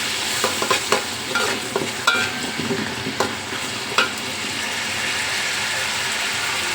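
Ginger paste, garlic paste, cumin and garam masala sizzle in a hot pan while a spatula scrapes and stirs them, with several sharp clacks against the pan over a continuous close frying hiss.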